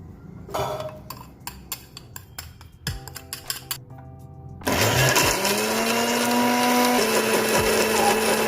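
A few light clinks of utensils and the jar being handled give way to a loud kitchen blender switching on and grinding overnight-soaked almonds into a paste, its whirring motor steady and close through the final seconds.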